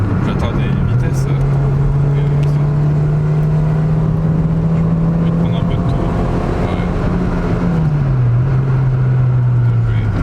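A Citroen BX 1.9i petrol car travels at speed, its engine a loud, steady drone with a held pitch that dips briefly near the end, heard from inside the cabin under continuous road and wind noise.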